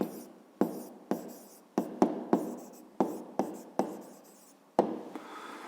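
Handwriting an answer on paper, heard as about ten quick, close pen strokes in an uneven rhythm, each a crisp scratch that fades, with little else in the background.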